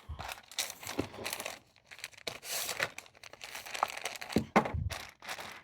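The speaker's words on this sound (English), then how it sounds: "Anybody else love the sound of thin paper once it starts being used?" Thin ink-swatch paper crinkles and crackles as it is handled, a close run of irregular dry rustles and sharp crisp crunches with no speech.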